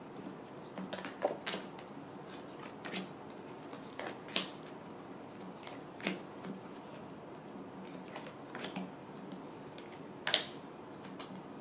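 Tarot cards are shuffled and riffled close by in short bursts, soft flicking and slapping sounds separated by quiet pauses.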